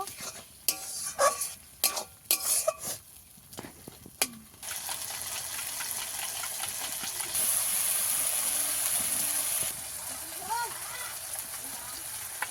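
Spice masala with turmeric powder for a chicken and potato curry, stir-fried in a pan: sharp utensil scrapes and knocks first, then a steady hissing sizzle that swells and holds close by.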